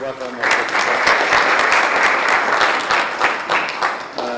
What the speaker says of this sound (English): I would encourage you, in fact, to give them a round of applause